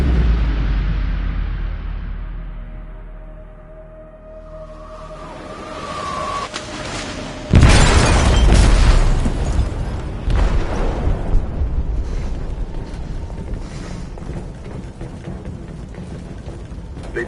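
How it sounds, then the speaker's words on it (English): Explosion detonating in a ship's hold in the video game Detroit: Become Human, a sudden loud blast after a quieter buildup, followed by a long rumbling, crackling aftermath of debris and shaking metal. "They detonated an explosive in the hold."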